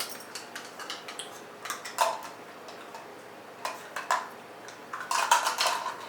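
A teaspoon scooping ground cumin from a small bowl, a series of light metallic taps and clicks against the rim, sparse at first and then clustering toward the end.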